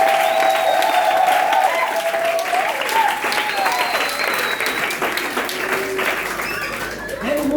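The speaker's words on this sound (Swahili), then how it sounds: "Mbona hata upigie Yesu makofi" Church congregation applauding for Jesus during a Swahili worship service, a steady dense wash of clapping from many hands with crowd murmur and a voice or tones drifting above it throughout.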